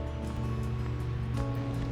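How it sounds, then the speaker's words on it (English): At Winner Creek Gorge in an Alaskan temperate rainforest, a river forced through a narrow constriction of solid rock roars in a loud, continuous, dense rush of water that fills the whole clip. "The entire river is forced into a narrow constriction of solid rock"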